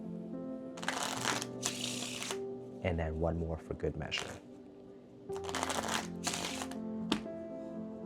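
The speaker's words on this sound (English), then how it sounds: "I will just immediately flow into the Mahatma Shuffle without, saying I'm gonna shuffle" Card shuffling during a Mahatma Shuffle, with loud riffling bursts and snaps in several separate runs, spoken over by someone talking throughout.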